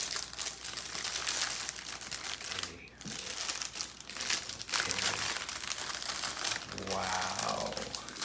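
Plastic packaging around a HyperX Alloy Core RGB gaming keyboard crinkles and rustles continuously up close during unboxing, with dense crackling handling noises and a brief pause midway.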